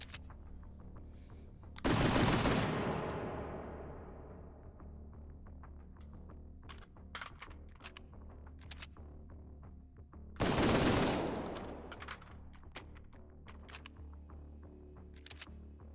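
Two heavy gunshots in the H3VR virtual reality shooter, each a sharp loud blast with a long decaying tail, spaced several seconds apart, with scattered small mechanical clicks and handling noises in between.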